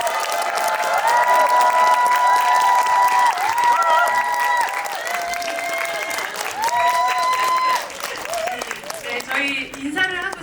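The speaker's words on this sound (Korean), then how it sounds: "큰 박수로 맞이하시기 바랍니다" A large crowd claps and cheers loudly and continuously, with music playing underneath throughout.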